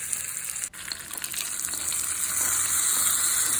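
Mustard seeds, urad dal and curry leaves sizzle and fry in hot oil during tempering for a groundnut chutney, a steady bright crackling hiss that builds slightly over a few seconds, close up with no voices.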